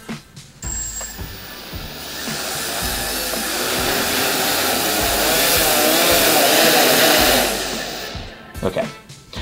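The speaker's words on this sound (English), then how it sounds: "you can see that the props, the correct props, are speeding up or slowing down, and you can hear what's going on" HobbyKing HKS500 quadcopter propellers whir up to a loud, steady buzzing drone that swells, holds for several seconds and then falls away as the props slow down, with brief handling noises at either end.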